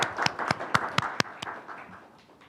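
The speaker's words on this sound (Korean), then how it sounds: "뜨거운 박수 부탁드립니다" Audience members at a policy forum give a brief, sparse round of applause, with a handful of distinct claps in a loose rhythm that soon thins and fades out.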